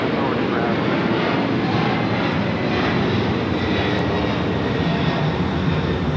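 Loud, steady roar of an old passenger Boeing 747's jet engines at LAX, a dense broadband rumble that holds for several seconds up close.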